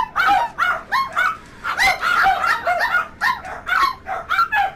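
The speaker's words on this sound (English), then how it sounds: "That's the dogs going off on one." Several dogs bark repeatedly and loudly close by in a household, with sharp bursts in an uneven rhythm, mixed with yips and whimpering cries and no talking.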